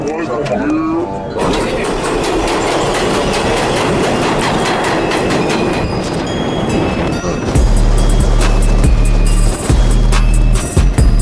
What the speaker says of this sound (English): There is a Manhattan bound local 7 train